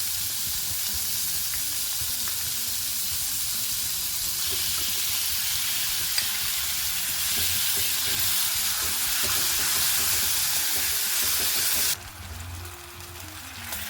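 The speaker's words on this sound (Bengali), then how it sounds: "নুন আর হলুদের সামান্য সাঁতলে নিয়েই অ্যাড করে দেবো আখি গুড়টা।" Salt, turmeric and sugarcane jaggery sautéing in a pan for a winter chutney, a steady close sizzle and frying hiss with faint stirring, no talk.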